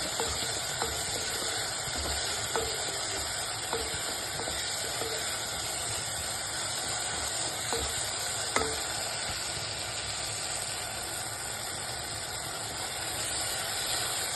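Black pepper fries in a pan while being stirred for a simple rasam, making a constant hissing sizzle with occasional soft scrapes and taps. No voices are heard.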